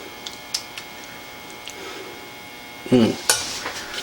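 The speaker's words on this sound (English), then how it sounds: "Normally I'll show you scooping this thing out, but we're gonna scoop it out here." A spoon scrapes and clinks against a pot while Rotel mac and cheese is scooped out into a bowl, with light taps, then a louder scraping burst near the end, close and fairly quiet.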